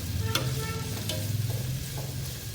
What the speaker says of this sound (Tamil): இது நல்லா கோல்டன் ப்ரௌன் வர வரைக்கும் நம்ம நல்லா வதக்கணும்.